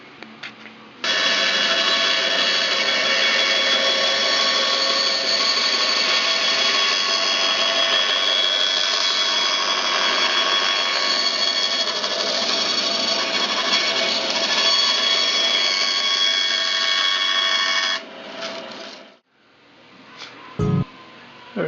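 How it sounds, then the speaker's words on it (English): A bandsaw cutting port light openings for a sailboat drones steadily and loudly for about seventeen seconds, then winds down into a few scattered knocks, with no talking. "just going to cut those out on the bandsaw"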